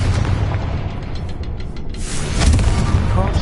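Confringo fire spell explosion in Hogwarts Legacy, a loud, dense rumbling blast that fills the whole span with booming low roar and a fresh surge of crackling burst partway through.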